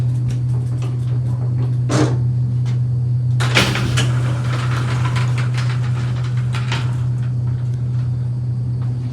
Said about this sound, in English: So let's open it on up and take a ride.